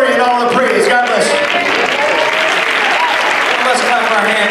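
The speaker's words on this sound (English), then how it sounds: "Let's clap our hands and give God praise." Church congregation clapping hands in praise, dense continuous applause filling the room at steady high volume, with voices talking and calling out underneath.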